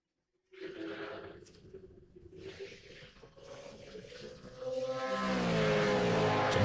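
Race cars at a Manawatu Car Club winter series round weave through a tight section and swing onto an old apron, engines droning steadily then swelling into a louder, rising rev as they close in, with a commentator talking over them.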